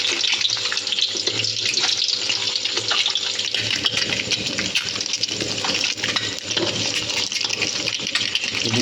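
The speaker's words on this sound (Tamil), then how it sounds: "ஸோ நம்ம 3 முட்டையும் இப்போ உடனே எடுத்துட்டு லைட்டாக இந்த மாதிரி ஃப்ரை பண்ணி எடுத்துப்போம்." Three eggs fry in a pan with a steady, close crackling sizzle that runs without a break.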